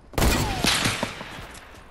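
Loud burst of gunfire in a sniper shooter game: a sharp initial shot followed by several rapid reports that trail off into a fading echo.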